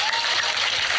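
A brief, dense burst of applause after a presentation, a fairly loud wash of clapping with a faint voice underneath.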